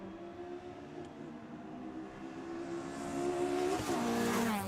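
Race cars in an ICCR round sweep through a circuit's S-bends, their engines a faint, distant drone heard from a commentary box that swells louder as the cars approach and shift pitch through the corners.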